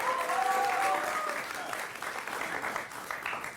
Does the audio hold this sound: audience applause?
yes